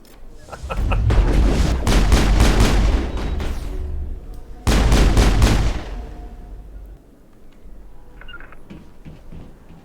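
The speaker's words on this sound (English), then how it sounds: "We're doing some shooting, people! Shooting!" Sustained bursts of in-game combat gunfire in the Mass Effect video game, dense and loud for several seconds, a short break, then another heavy burst before trailing off into quieter background noise.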